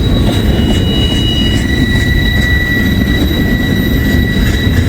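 Long intermodal freight train hauled by a single locomotive rolling past, a steady loud rumble of wheels and container cars with faint high squeals, continuous and close without pauses.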